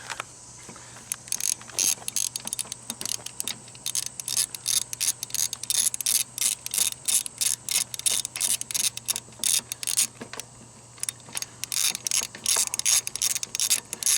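A ratchet with a deep well socket clicks rapidly on bolts during a Grand Am engine teardown, a steady run of close, crisp pawl clicks broken by brief pauses.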